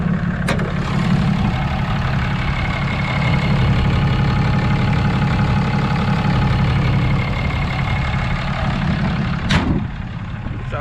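A 4th-gen pickup's 6.7 Cummins diesel on its stock turbo idles steadily, a low, even rumble with a soft mechanical clatter. Two brief sharp clicks cut in near the start and near the end, and no one talks.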